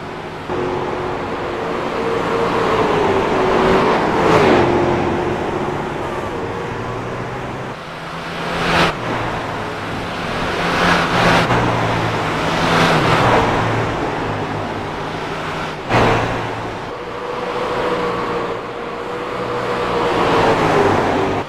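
Race trucks circle Phoenix International Speedway during an All Pro Racing Toys for Tots 100, their engines droning steadily with rising and falling pitch as packs pass at mid-distance, broken by a few louder sharp swells.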